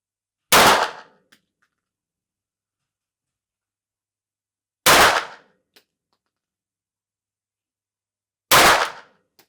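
Three single gunshots from an Akdaş SA9 pistol-caliber carbine ring out a few seconds apart, each sharp and loud with a short decay, then silence between them.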